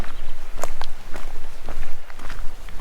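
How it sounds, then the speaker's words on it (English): Close footsteps crunch and scuff at a walking pace outdoors, each step distinct and fairly loud. "Footsteps."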